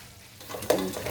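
Chicken for chicken 65 is dropped into hot oil, a soft sizzle that builds quickly into louder crackling bursts, close and brief with no voices.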